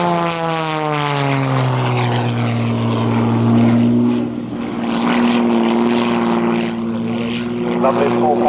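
Extra aerobatic propeller aircraft at an air show, a continuous droning engine with a strong propeller hum rising and falling in pitch as it manoeuvres overhead, while a commentator talks over it.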